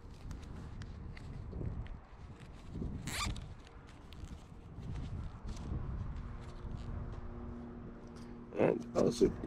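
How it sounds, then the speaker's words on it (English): Zip ties being ratcheted tight around a fiber drop cable on a utility pole setup, giving a few quick rasping zips near the end over faint outdoor background noise and handling sounds. "Zip tie this."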